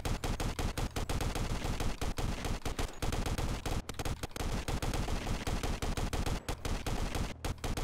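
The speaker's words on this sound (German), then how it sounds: "Wir haben eine Sniper und werden jetzt alles wegscheppern hier." Rapid, evenly spaced rifle shots from a video game crack out loudly and continuously for several seconds, a dense stream of gunfire with no speech over it.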